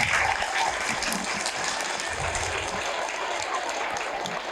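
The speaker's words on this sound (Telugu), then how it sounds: "చప్పట్లు కొట్టండి." A school audience at a stage program applauds, a steady dense wash of many hands clapping at moderate loudness throughout.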